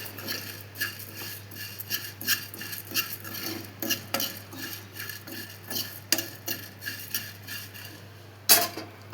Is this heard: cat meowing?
no